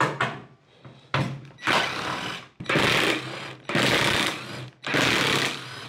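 Fender bolts coming off a Mopar A-body with a power tool, in four or five loud, close bursts of whirring rattle, each lasting about a second, separated by short pauses.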